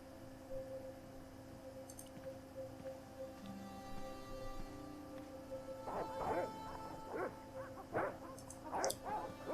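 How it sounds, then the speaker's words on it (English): Dogs in the Broken Sword game bark and yip in repeated bursts during the second half, under a steady background drone, after a quieter stretch. "Well, the dogs are there."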